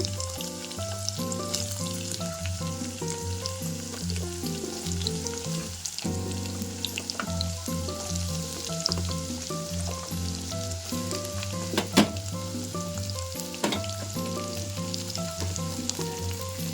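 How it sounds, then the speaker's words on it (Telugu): Pieces of bottle gourd fry in a pan with a steady, moderate sizzle that continues throughout, with occasional stirring clicks and soft background music. "ఇప్పుడైతే నేను సొరకాయ ముక్కలు వేసుకుంటున్నాను చూడండి"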